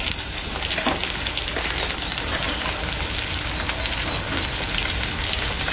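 Onion, green chilies and curry leaves frying in hot oil for a chicken kulambu, a dense continuous crackling sizzle, loud and close, steady throughout with no talk.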